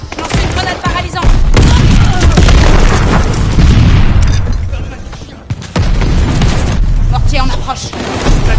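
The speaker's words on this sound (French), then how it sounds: "Mortier en approche." A mortar barrage in a shooter video game, heard as loud, continuous booming blasts and rumbling explosions that pile up almost without a break, with a short dip midway before the heavy barrage resumes.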